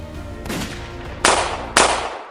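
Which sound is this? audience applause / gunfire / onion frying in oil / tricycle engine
gunfire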